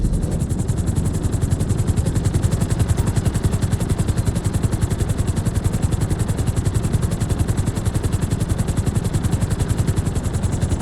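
Helicopter flying in Grand Theft Auto 5, with rapid rhythmic rotor thumping over a steady engine drone, loud, close and continuous.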